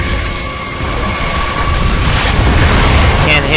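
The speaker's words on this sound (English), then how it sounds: "Incoming mortar! Take shelter!" Mortar shell explosions in the video game Gears of War 3, heavy booming blasts rolling into a dense, continuous rumble of battle noise that stays loud throughout.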